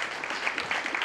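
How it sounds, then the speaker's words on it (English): An audience gives a brief burst of applause, a dense, even patter of many hands clapping at moderate loudness. "And big round of applause for my team, Gina and Brandis, for always making everyth"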